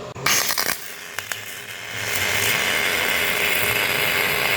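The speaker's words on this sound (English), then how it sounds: "Oh, that is spray arc. That's spray arc." A few clicks and bumps, then a loud, steady buzzing hiss of a small, inexpensive MIG welder running a continuous spray arc close by.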